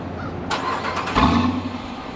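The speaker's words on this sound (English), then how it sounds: "let's do a quick little cold start" A Dodge Durango with a 5.7-liter Hemi V8 cold-starts: a sharp crank catch at about half a second, a swelling roar near 1.2 seconds, then a steady, loud idle close by.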